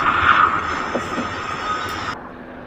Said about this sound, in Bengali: এটা বাংলাদেশ বিমানের ছোট বিমান। দেখছো উড়াল দিল।